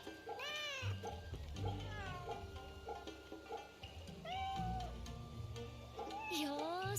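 A cat in the video game Fate/Samurai Remnant gives several soft, rising meows with gaps between them, set against game music and ambience, with a voice talking quietly alongside.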